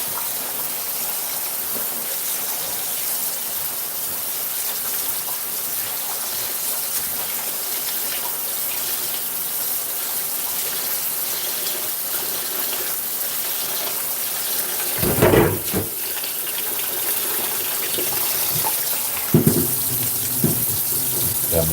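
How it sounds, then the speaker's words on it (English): Tap water runs continuously into a sink while rice is being washed in a kitchen, a steady close hiss with a couple of louder gushes and splashes near the end. "I'm just washing off my rice behind here."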